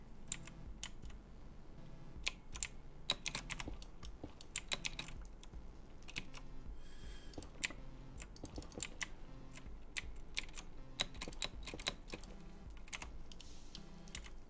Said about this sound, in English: I was just typing